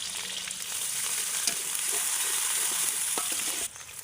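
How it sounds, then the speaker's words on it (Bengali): A steady, close sizzle of onions, green chilies and garlic frying in hot oil, with a few faint scraping stirs and no voices. "পেঁয়াজ মরিচ রসুনগুলো ভাজা হয়ে গেছে।"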